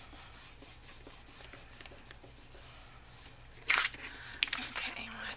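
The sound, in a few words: rubbing down paper on bag journal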